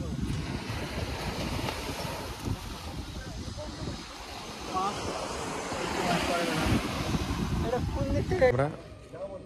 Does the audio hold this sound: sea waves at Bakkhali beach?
yes